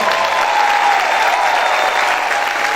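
A church congregation claps loudly and steadily together, a dense wash of applause filling the room without pause.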